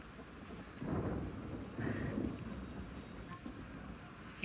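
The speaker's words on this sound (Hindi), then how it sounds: "ये बारिश, मैं और ये बादलों की आवाज।" Steady rain falls outdoors with low rumbling thunder swelling twice in the background, a continuous wash of drops without speech.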